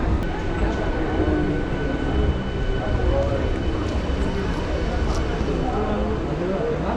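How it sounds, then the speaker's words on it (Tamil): A suburban train pulling out of Chetpet railway station in Chennai, a steady loud rumble and rail roar filling the whole stretch, with a voice talking over it. "இப்போ சேத்துப்பட்டு ரயில்வே ஸ்டேஷன்லேருந்தும் இந்த ட்ரெயின் ஸ்டார்ட் ஆகிடுச்சு"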